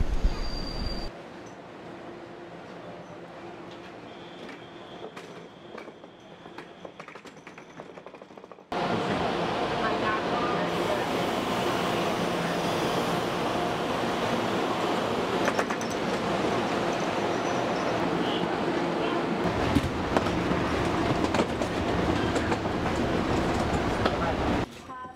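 A Taiwan Railway train running from Taipei to Yilan on the east coast rumbles steadily from inside the carriage, following a quieter opening stretch. The noise is a broad, continuous roar with faint murmuring in the background.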